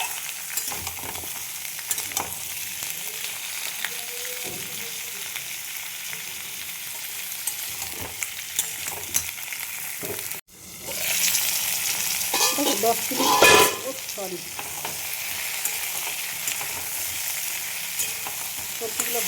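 Onions and mixed vegetables fry together in a pan for a chicken curry, giving a steady close sizzle with stirring scrapes throughout and a brief louder burst partway through, with a few words spoken over it.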